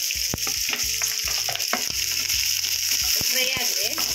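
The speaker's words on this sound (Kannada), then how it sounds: "ಫ್ರೈ ಆಗಲಿ ಸ್ವಲ್ಪ." Mustard seeds, onion, curry leaves and garlic fry together in hot oil for a spicy gorikayi palya side dish; close crackling sizzle punctuated by sharp spatula clinks and scrapes against the pan.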